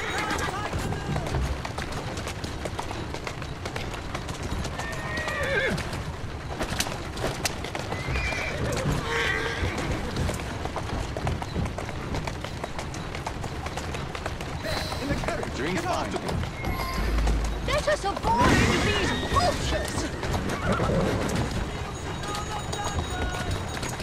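A horse whinnies and snorts over the thud of hooves moving along in Assassin's Creed Syndicate, with a person talking intermittently nearby.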